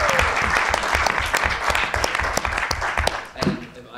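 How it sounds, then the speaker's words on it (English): An audience at a student senate debate claps for Sasha, a lively spread of hand claps with distinct close slaps, while voices mix in beneath the clapping. "a big round of applause for Sasha"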